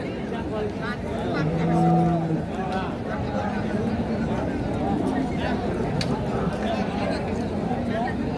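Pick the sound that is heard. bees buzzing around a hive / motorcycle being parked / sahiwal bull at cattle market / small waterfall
sahiwal bull at cattle market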